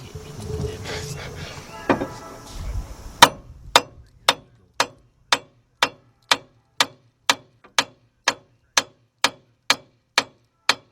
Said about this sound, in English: Grab that big hammer, man, and hit that thing down.